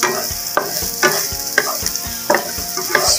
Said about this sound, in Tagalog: pag may mantika na, isunod natin yung sibuyas